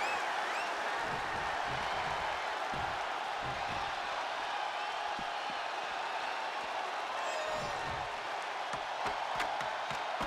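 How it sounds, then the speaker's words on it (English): A wrestling arena crowd in the WWE 2K23 video game roars steadily in the background, a dense wash of cheering and applause with scattered whoops, plus low thuds and commentary-like voices underneath. "you can't hear yourself think because the crowd's so loud"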